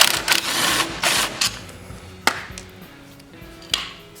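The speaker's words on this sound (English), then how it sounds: "take a 1/2 inch socket and take this bolt off" A 1/2 inch socket wrench loosens a bolt on a Toro 30-inch mower transmission, giving short bursts of rapid ratcheting clicks separated by pauses, with a few sharper metallic knocks, close by and moderately quiet.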